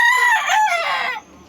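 A gamecock rooster from a winning fighting-cock line crows once, loud and close, in a single drawn-out call that cuts off sharply near the end.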